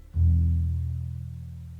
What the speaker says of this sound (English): This is the lowest string in a standard bass.